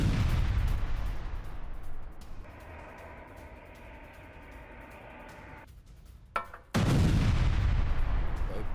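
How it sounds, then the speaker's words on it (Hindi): Russian drones bombing Ukrainian military vehicles: a steady noisy rush, then a sudden sharp blast that gives way to a loud, broad roar. "यूक्रेनी सैन्य वाहनों पर इस बार यह बमबारी की गई है"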